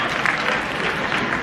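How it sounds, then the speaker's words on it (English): A seminar audience at a talk on growth mindset and entrepreneurship claps in a brief, steady burst of applause, fairly loud and filling the room. "Round of applause for these people."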